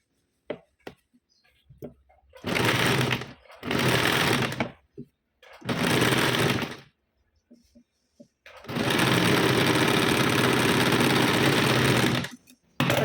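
An electric sewing machine stitches a blouse seam on a size 38 four-tuck blouse, running in several short whirring bursts separated by pauses before one longer continuous run near the end.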